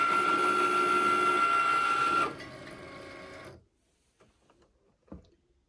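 A Cricut Maker cutting machine makes its first cut, whirring loudly at close range, then shifting to a quieter mechanical hum before stopping, followed by a few faint clicks and handling sounds.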